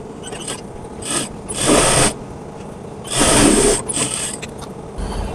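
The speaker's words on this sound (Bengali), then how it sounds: "হাতার মুখের মাপ ঠিক রেখে এটা সেলাই দিতে হবে।" Sewing machine stitching the sleeve of a kameez, two loud whirring bursts of running stitches separated by quieter mechanical clicks and handling, close up with no talk.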